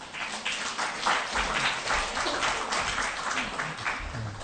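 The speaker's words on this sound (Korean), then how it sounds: "환영의 박수로 맞이하겠습니다." A church congregation gives steady welcoming applause, a dense wash of many hands clapping throughout, moderately loud and continuous.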